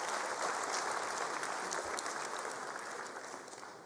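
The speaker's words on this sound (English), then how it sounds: "big hand of applause" A large audience at an official education results announcement claps steadily and densely, a broad even wash of applause that tapers slightly toward the end.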